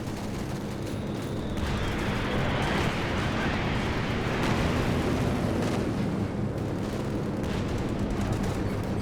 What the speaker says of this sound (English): Here comes the P-47 rocket strafe